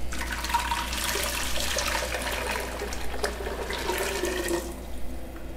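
Blended chicken tortilla soup base poured from a blender jar into a pot on the stove, a steady liquid gush and splash running continuously at close range with no talking.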